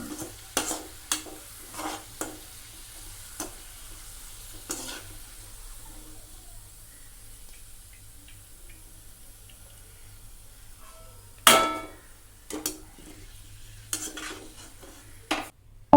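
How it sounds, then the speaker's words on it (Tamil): A steady low sizzle of onions frying in oil runs throughout, broken by occasional scrapes and stirring clatter of a utensil in the pan. "வெங்காயம் நல்லா வதங்கணும் அதே நேரத்தில் கருகிறவும் கூடாது"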